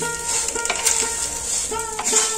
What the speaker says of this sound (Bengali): এই গোবিন্দভোগ চালটা হালকা আঁচে ভেজে নিলাম।